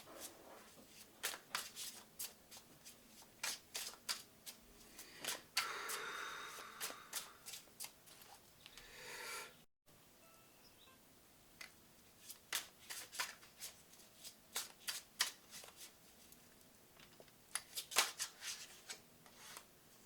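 Tarot cards are shuffled close to the microphone in quiet, repeated riffles and soft flutters, with a short gap midway before the shuffling resumes.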